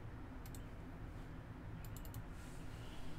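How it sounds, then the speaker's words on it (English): Computer keyboard keys clatter in short quick clusters of clicks, faint beneath a steady background hum, with a few separate taps spaced over a few seconds. "you're gonna hear some keyboard clanking"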